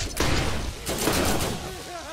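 Deployed turret and guided rocket firing in Borderlands, a burst of gunfire and thumping blasts in two clusters with a short whoosh, loud and close, over constant game noise and some talk.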